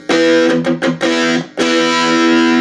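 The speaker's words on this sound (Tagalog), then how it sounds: "And distortion, syempre, ito talagang nagbibigay ng bigat talaga, no." An electric guitar played through a distortion pedal, loud and thick with sustained harmonic-rich chords, a few quick choppy strums, then a long ringing held chord, with no voices.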